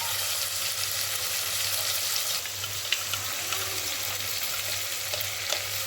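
Tomatoes sauté in a pan with a steady, even sizzle that runs the whole time, close and moderately loud, with no voices.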